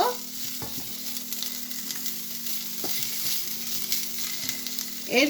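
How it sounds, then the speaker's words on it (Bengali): Cauliflower florets fry lightly in a pan of oil for a Bengali bhorta, giving a steady close sizzle with occasional stirring scrapes and a brief louder crackle at the end. "এখন ফুলকপিটা এভাবে বাঁধাকপির মতো দিয়ে দিছি এখানে। এটা একটু হালকা ভেজে নিব।"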